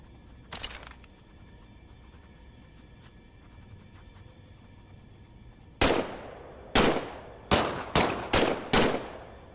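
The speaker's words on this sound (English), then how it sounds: "why don't you test fire your weapon?" A weapon is test-fired in Medal of Honor VR: one early shot, a quiet pause, then six sharp, loud gunshots in quick succession, each ringing out briefly, with no talk.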